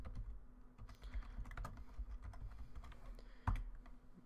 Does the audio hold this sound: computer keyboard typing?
yes